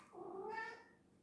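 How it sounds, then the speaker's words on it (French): A house cat meows to be let outside, one drawn-out, complaining meow that rises and then fades, fairly faint and in a quiet room with no talking. "vous entendez mon chat qui est en train de rouspéter parce qu'il a envie de sortir"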